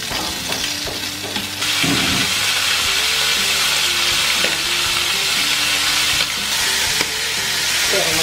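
Pork cheek sisig sizzling hard in its own rendered fat, a loud, dense, continuous hiss and crackle with occasional stirring scrapes, close and without speech.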